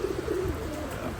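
A pigeon gives a brief, low, soft coo, heard faintly at close range against a quiet background.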